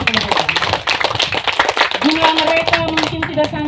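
Audience clapping at an outdoor church celebration, a dense patter of hand claps running steadily throughout with voices and some tonal singing or music mixed in underneath.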